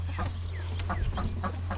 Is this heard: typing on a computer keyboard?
no